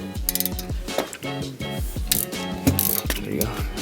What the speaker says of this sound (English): Alright, ratchet these off.